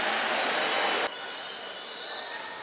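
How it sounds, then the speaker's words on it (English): A suburban train to Xochimilco in Mexico City rumbles past with broadband rushing noise that drops abruptly after about a second, then a steadier, quieter hum and rattle continue. "Okay, the train going to Xochimilco. This is a suburb train."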